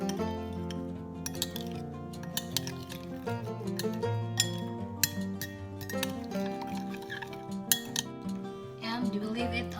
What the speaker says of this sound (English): And we stir it.